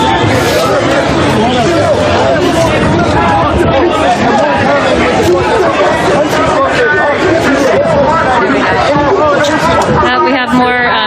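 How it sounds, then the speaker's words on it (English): A large protest crowd in a city square chatters continuously, dense overlapping voices forming a loud, close babble with no single clear speaker. "We've still got a decent crowd out here."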